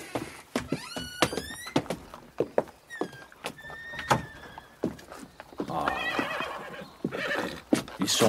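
Several horses harnessed to a carriage give repeated loud, high whinnies over a run of hollow hoof clip-clops and thuds, close by and busy throughout, with no voices.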